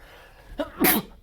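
A single sharp sneeze, preceded by a quick inhale, close and fairly loud in a quiet room.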